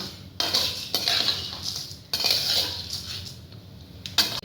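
Puffed rice is stirred in a pan, producing bursts of dry scraping, clinking and rustling in three strokes that rise and fade. It sounds close and fairly loud, with no talking.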